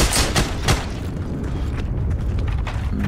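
Tank shelling in the video game Heroes & Generals: a few heavy booming blasts in quick succession, followed by a rumbling, crackling aftermath with lighter impacts and debris.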